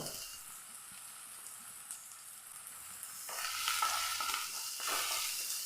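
Green chillies and onion sauté in a hot pan, a steady close sizzle and hiss that grows louder and denser halfway through as the pieces are stirred, with no voices.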